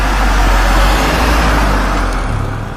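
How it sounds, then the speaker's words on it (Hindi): A van engine roars in frantic reverse, a loud, steady low rumble of motor and road noise that fades slightly toward the end, with no talk. "वो पागलों की तरह गाड़ी पीछे की ओर ले जाने लगा।"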